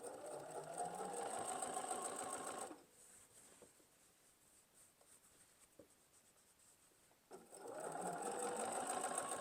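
A sewing machine stitches binding onto a quilt: a close, even whir runs for a few seconds, halts for a quiet stretch with soft handling taps, then starts up again just as steadily.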